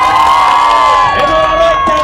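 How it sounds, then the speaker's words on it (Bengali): Loud crowd cheering and shouting at a staged event, a sustained wall of voices with rising whoops, close and continuous for the whole stretch. "সবাই হাততালি দেন।"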